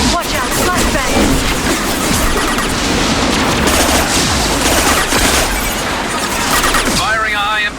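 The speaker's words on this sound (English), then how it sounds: "Watch out, flashbang!" A firefight in Mass Effect 2 Legendary Edition, during the Lair of the Shadow Broker DLC mission, with loud, continuous rapid gunfire, dense bursts and a flashbang grenade blast close by, the noise barely letting up.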